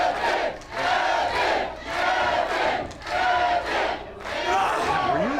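A live wrestling crowd at an Oxnard Liberty Live showcase match roars and chants in rhythmic waves, loud and sustained, with rising and falling swells of cheering voices filling the venue.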